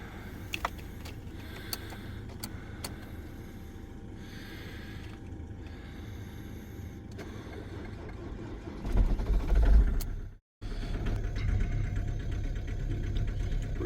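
A frozen camper van engine cranks over and catches in the cold, with a loud low burst of starting effort near the end, a brief cutout, then a steady running idle.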